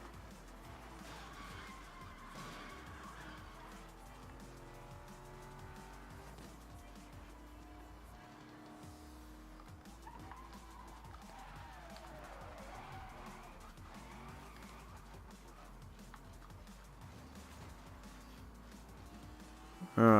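Car racing in the video game Need for Speed Most Wanted, a steady engine drone with tyre squeals and skids running throughout, loud and continuous with a sharp hit at the very end.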